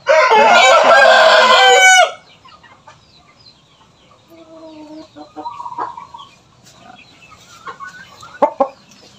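A Japanese Shamo Ibaraki rooster crossed with Aseel lets out a loud, close crow lasting about two seconds, followed by softer scattered clucks and calls from gamefowl around a farm pen.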